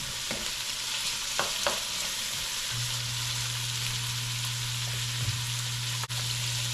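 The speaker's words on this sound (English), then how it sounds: "So we're going to just let this cook on a medium heat." Onions frying in a pan over medium heat as the base for a spicy Sicilian tomato sauce, a steady close sizzle with a few stirring clicks and a low hum underneath.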